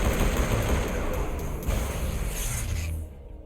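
Video game Mass Effect battle: sustained rapid gunfire with a booming blast midway, loud and dense, cutting off abruptly near the end.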